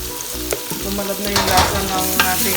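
Garlic, onion and ginger sauté in a pan for a Kapampangan papaitan, giving a close, steady sizzle with scraping stir sounds while a voice speaks over it.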